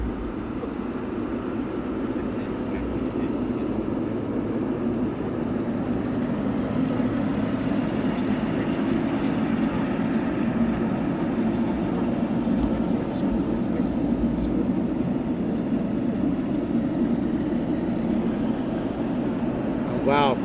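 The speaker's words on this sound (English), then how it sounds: "The FedEx 777 taxiing in as the 74 disappears" A FedEx Boeing 777 taxis at night at East Midlands Airport, a constant loud engine roar and rumble holding steady throughout without a break.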